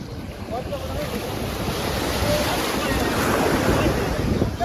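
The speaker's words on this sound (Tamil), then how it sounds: "ஃபைனலாக படகு கரைக்கு வந்துடுச்சு" A fishing boat comes in to shore at Thoothukudi beach, heard as steady rushing surf and wind buffeting the microphone, loud and continuous, with faint voices mixed in.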